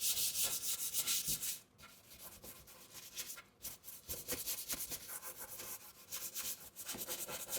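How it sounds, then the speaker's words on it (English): A scouring cloth wipes solidified grease off a surface, producing steady scrubbing and rubbing strokes close up, with two short pauses between bursts of wiping and no talking. "Simply wipe it with a scouring cloth."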